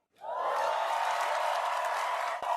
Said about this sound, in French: Tu as eu tes applaudissements, hein?